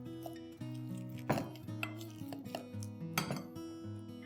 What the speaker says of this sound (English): just put them into a bowl, peel the skin off, just give it a quick mash while it's hot